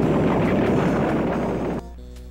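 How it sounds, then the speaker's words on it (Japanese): A dense, heavy rumbling roar of a PC Engine video game earthquake, caused by a giant catfish, fills the clip, steady and loud before cutting sharply to a quieter electronic hum near the end. "大ナマズが暴れだして地震が起こった"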